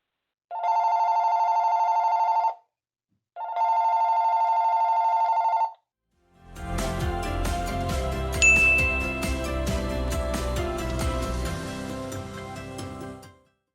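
Two long electronic telephone ring tones from a business phone app placing an outgoing call, each about two seconds with a pause between, followed by a burst of dense music-like sound.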